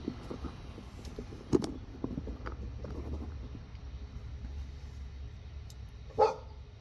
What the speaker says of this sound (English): Don't mind my neighbor's noisy dogs, they have zero training whatsoever.